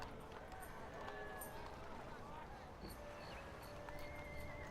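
Horses whinny repeatedly over clip-clopping hooves in the video game Anno 1701, with steady game ambience beneath.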